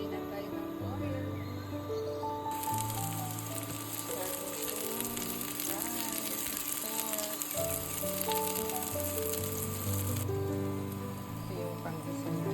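Ginger, garlic and onion sautéing in oil for pinakbet, a loud continuous hiss and crackle close by that swells partway through, with music playing underneath.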